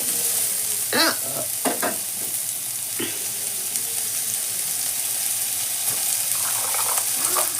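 Cumin seeds fry in hot oil in a pan with a steady bright sizzle throughout, broken by a few sharper crackles and pops near the start and around the middle, close by with no talking.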